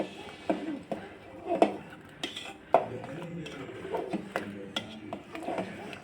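A spoon stirs salt into kambu sadam (pearl millet rice) cooking in a pot, giving irregular metallic clinks and scrapes against the pot rim, close and fairly clear, with a few louder knocks over faint background hum.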